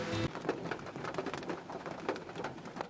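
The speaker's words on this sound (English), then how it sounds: "We just got caught in a rainstorm." Spring rain pours down during a rainforest hike, a steady, dense patter of drops close around with occasional louder splashes and no voices.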